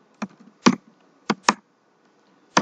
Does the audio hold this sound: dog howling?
no